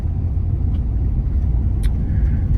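Steady low rumble of a 2023 Ford F-350 pickup rolling over torn-up pavement, with constant vibration and faint rattles, heard from inside.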